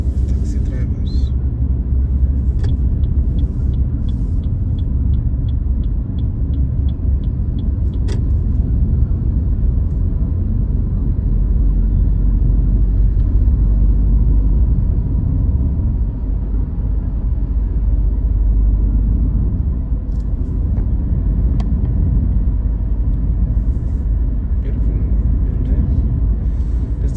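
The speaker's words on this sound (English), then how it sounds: "Seems like there's traffic, the upcoming traffic" Road traffic in heavy rain in Abidjan makes a steady, loud, broad rumble of engines and rainfall that holds for the whole stretch, with a few faint clicks and no clear talk.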